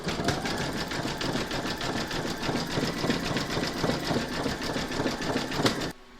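Embroidery machine stitches leaf detail and a satin edge on an in-the-hoop coaster, a fast steady mechanical chatter of rapid needle strokes close by, stopping abruptly at the end.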